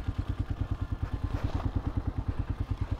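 A motorcycle engine idles in a flooded street in Barangay San Nicolas, San Luis, Pampanga, with a steady, rapid low putter that pulses evenly and sounds fairly close, with no voices over it.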